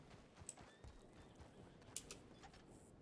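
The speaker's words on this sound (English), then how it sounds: "I hear horses." Horse hooves clip-clopping in a Western roleplay video game, faint and distant, with a few soft thuds and a brief whinny-like squeal partway through, under quiet game ambience.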